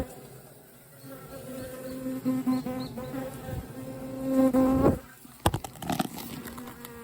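Honey bees buzz steadily around a hive in rural Japan as it is opened for inspection, a dense droning hum with a few louder passes close by, then brief knocks and rustling near the end.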